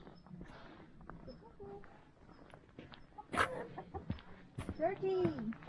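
A chicken clucks in a few short bursts near the microphone in the Chinese countryside, with outdoor background noise and faint voices around it.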